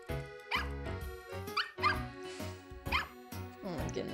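A virtual dog in the video game Nintendogs + Cats gives a string of short, loud yips and barks in an uneven rhythm, about six bursts, close and clear.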